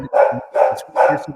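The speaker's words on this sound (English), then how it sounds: "That's my dog barking." A dog barks three times in an even rhythm, close and loud, with no talk over it.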